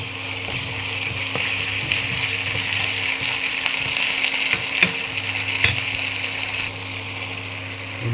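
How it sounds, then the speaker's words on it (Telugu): Ginger paste frying in hot oil in a pan gives a steady, close sizzle with a faint hum underneath and a few brief clicks and scrapes from stirring. "కొద్దిగా అల్లం పేస్ట్ కొద్దిగా ఫ్రై అయినాక లైట్గా పచ్చి వాసన పోయేంత వరకు ఫ్రై చేయాలి"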